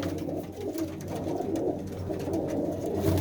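Pigeons kept at a pigeon-flying fair in Bhaini coo steadily and softly, close by, with overlapping low calls running through the whole moment and no voices.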